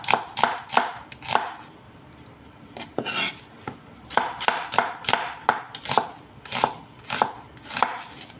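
Onions are chopped with a knife on a board in quick bursts of sharp, evenly spaced thuds, with a short pause between bursts. The cuts sound close and crisp.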